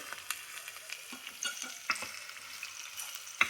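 Sliced onion lightly frying in a pan for kosambari, a steady close sizzle with scattered scraping stir strokes and a few sharper clinks of a spoon against the pan, no voices.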